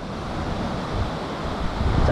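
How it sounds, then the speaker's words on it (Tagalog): Strong ocean surf rushes continuously onto a beach, with heavy wash and some wind noise on the microphone. "Tsaka lakas din ng alon dito."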